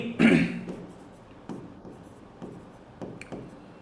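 Chalk or marker strokes on a board during a mathematics lesson on ratio and proportion, a louder scratchy burst near the start followed by a few short, quieter writing strokes at irregular intervals, with no talk.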